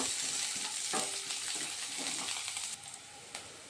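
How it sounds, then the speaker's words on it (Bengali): Chopped onions fry in a pan for palak paneer, giving a steady, close crackling sizzle with occasional stirring clicks and no talking. "এখন আমি কিছু পেঁয়াজ কুচি দিয়ে দিচ্ছি পেঁয়াজগুলোকে একটু লাল লাল করে প্রথমে ভেজে নেব"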